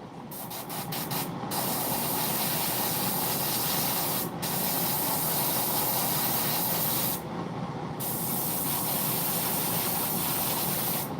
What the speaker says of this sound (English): Just priming and stuff, you know. That PSI is a little too high.